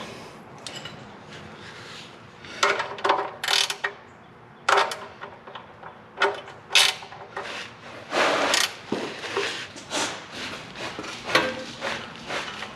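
Ratchet tightening a bolt on a 1980 Camaro, irregular bursts of clicking and metallic rubbing, close and fairly loud, with pauses between strokes.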